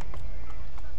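Horse hooves clip-clop in Assassin's Creed 3, a few quick, close knocks over a dense game soundscape with low rumble underneath.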